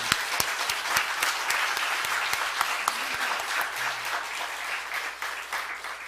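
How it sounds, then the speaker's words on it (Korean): Congregation applause at a pastor's installation service in a church, a steady wash of many hands clapping for about six seconds, fairly even and moderately loud with no voices on top. "우리 한번 하나님께 박수 한번, 감사의 박수 한번"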